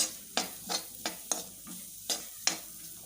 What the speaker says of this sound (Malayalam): ഉള്ളി ഇളക്കി യോജിപ്പിക്കണം